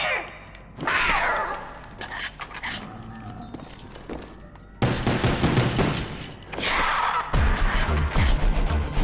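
Rapid gunfire in a Black Ops 1 Zombies match, with bursts of shots and shattering crashes that grow louder and denser toward the end.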